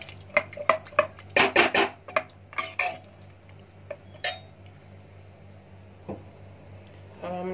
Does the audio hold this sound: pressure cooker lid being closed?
yes